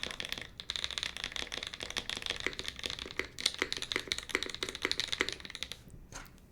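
Rapid uneven clacking of arrow keys being typed on a Bulwark prototype mechanical keyboard, close and uniform-sounding taps in quick bursts, fading near the end.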